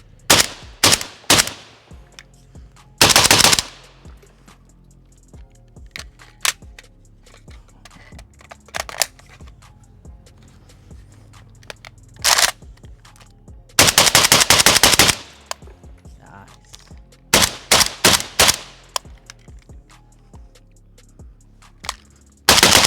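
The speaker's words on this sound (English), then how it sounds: "Oh man, it shoots suppressed so freaking well." A suppressed Draco rifle fitted with a K&S gas piston fires in bursts and single shots, with sharp loud cracks spaced apart by quiet gaps and a muted mechanical clatter between strings of fire.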